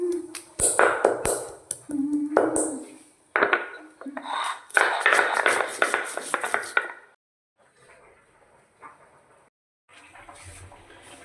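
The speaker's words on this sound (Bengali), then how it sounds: "শিল্পাটাতেই আমি টমেটোটা বেটে নেব একসাথে, একদম সব কিছু একসাথে" Tomato and spices ground together by hand on a stone grinding slab, giving rough rhythmic scraping and knocking strokes close by in bursts, then a quieter stretch of softer rubbing near the end.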